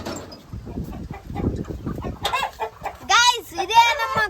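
Chickens at a chicken farm cluck and squawk in short bursts, rising louder toward the end, over a background of movement and low murmuring voices.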